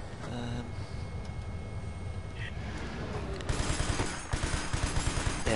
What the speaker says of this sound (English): it's pretty good with a machine gun in the tank, though